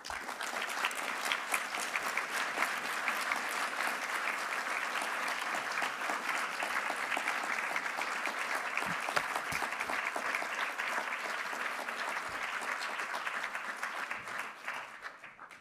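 Sustained audience applause after a speech on Europe, a dense steady wash of many hands clapping that holds strong throughout and only tapers slightly at the very end.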